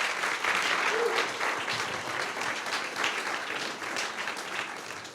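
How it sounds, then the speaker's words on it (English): A conference audience applauds the mentors at a leaders' event in Slovenia, a steady, even roll of many hands clapping at moderate distance that holds for several seconds without words. "So a big round of applause for the mentors."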